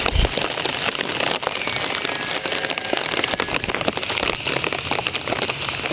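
Steady rain pours on a village of old-style houses, a dense, even hiss of drops pattering on leaves and surfaces close by, with scattered louder drips and no voices throughout.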